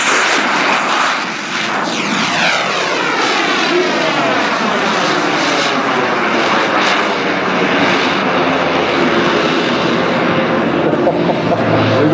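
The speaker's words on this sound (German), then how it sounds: "das ist ein handelsübliche EvoJet-Turbine mit einem Eigenbau-Nachbrenner" A loud, roaring EvoJet RC jet turbine with a homemade afterburner on an RC Eurofighter, harsh blast steady and powerful, with a sweeping rise and fall in pitch as it passes nearby.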